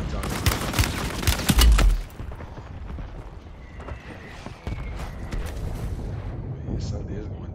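Several gunshots crack in a quick, loud burst near the start, with someone shooting toward the listener; quieter rustling, movement and background noise follow after the volley.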